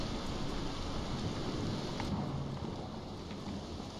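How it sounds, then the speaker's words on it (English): A rainstorm in the video game Morrowind makes a constant, dense hiss of falling rain with a low rumbling undertone of thunder, steady and even throughout with no distinct crack. "Storm everywhere."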